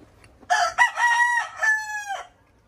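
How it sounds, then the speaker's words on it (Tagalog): A rooster crows close by among a crowd of chickens at a home in the Philippines, a loud, drawn-out cock-a-doodle-doo in several rising and falling segments, with only faint background between. "Ang dami namin manok"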